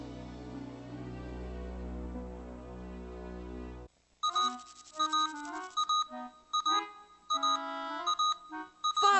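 An alarm beeps in repeated bursts of electronic tones after a sustained droning tone cuts off, fairly loud and alone.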